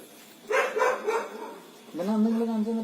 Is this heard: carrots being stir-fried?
no